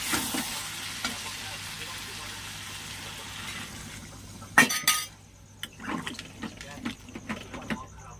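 A mutton curry sizzles softly in a pan, then water poured in brings a sudden loud hiss and burst of bubbling, followed by stirring clinks and scrapes against the pot.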